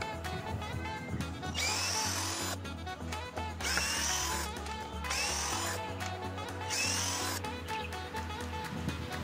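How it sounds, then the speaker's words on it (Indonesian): An Edon LV3-1210 cordless drill in drilling mode drives 2-inch screws: loud, close whirring in three sustained bursts, with short pauses and lower mechanical running between them. "Untuk skrup panjang 2 inci tidak bisa masuk semua, kita menggunakan mode drilling ini."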